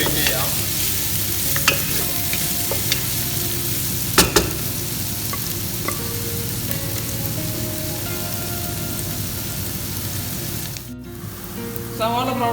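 Sliced onions sizzle and fry steadily in a pan for a mutton recipe, a dense continuous crackle with occasional stirring scrapes and clinks.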